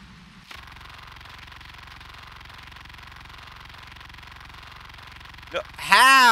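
A vehicle engine in a zombie apocalypse video game holds a steady, droning mid-pitched hum for several seconds, then cuts off, followed by a short rising whine and a burst of brighter noise.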